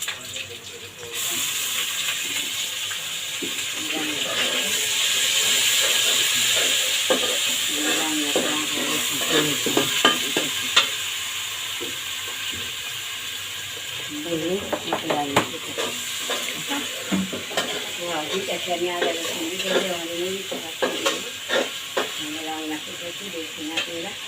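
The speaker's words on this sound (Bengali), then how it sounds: "তেলে দিতেছি আমি গরম মশলা দিতেছি সব কিছু আছে রান্না করতেছি" Garam masala spices sizzle and fry in hot oil while being stirred in a pan, a steady hiss under repeated scraping and stirring clatter, close and moderately loud, with faint talk at times.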